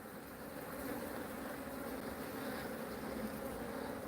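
A dense, continuous buzz of many honeybees rises from an open hive box, close and steady with no pauses.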